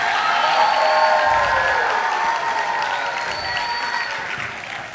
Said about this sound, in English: Let's cheer on Ms. Peterson.